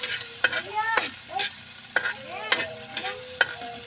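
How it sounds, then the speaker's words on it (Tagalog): Misua noodles are stirred and fried in a pan with a steady sizzle, while a utensil scrapes and clatters in repeated sharp strokes roughly every half second, close and clear with no talk. "Luto tayo miswa mga katropa"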